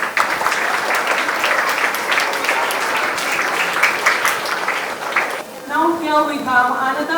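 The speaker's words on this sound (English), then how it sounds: "Let's give them a thunderous round of applause." A school audience gives a full round of applause for award winners at an investiture ceremony; dense, sustained clapping that fades near the end as a voice begins speaking over a quieter room.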